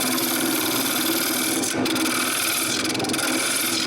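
A wood lathe cutting a shallow recess into a wooden bowl held by its tenon, a steady close whirring hum with scraping tool contact and a brief break midway.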